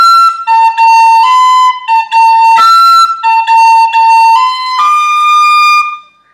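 Phrase of the Irish tune Scatter the Mud (Scaip An Puiteach) played alone on a clear, bright wind instrument, a run of distinct notes with a few quick articulated groups, close and loud, ending with a held note.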